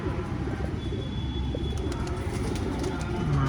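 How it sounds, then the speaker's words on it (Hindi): Pigeons coo in low, soft, repeated throaty calls close by, over a steady background hum. "ये यूपी का सबसे फेमस कबूतर है इलाहाबाद"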